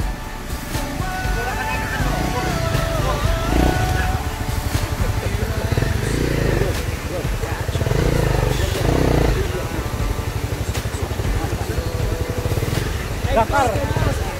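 Trail motorcycle engine droning steadily on a mountain trail ride, loud and continuous throughout with rough wind buffeting, while a rider talks over the noise.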